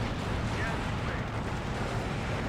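Battle sounds from the Steel Division 2 wargame, a dense, continuous rumble of distant artillery and gunfire with deep booming low end, steady and moderately loud.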